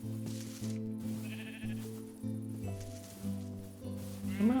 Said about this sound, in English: Let's go round up some sheep.